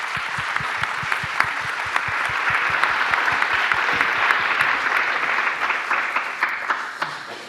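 Hearty audience applause for a leadership panel at a conference, a steady, full round of clapping that builds and then tapers toward the end, with no talking over it.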